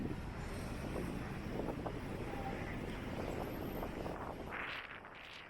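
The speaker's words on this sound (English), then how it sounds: "it's quite a blowy day here in Blackpool today" Gusty wind on a blowy day in Blackpool town centre, a steady roaring rush buffeting the microphone, easing slightly near the end, with no talking.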